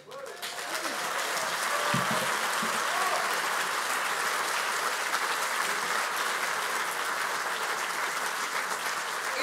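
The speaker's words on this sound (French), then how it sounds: "Je voudrais vous demander d'applaudir Ivor Youffoll pour son courage et sa liberté." A university audience at a French political debate gives a sustained round of applause, dense and steady clapping from many hands that holds for several seconds, with a brief thump near the start.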